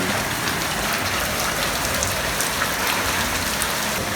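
Heavy rain pours steadily outdoors near a cooking hearth, a dense, even hiss of drops drumming on surfaces with no pauses and no voices.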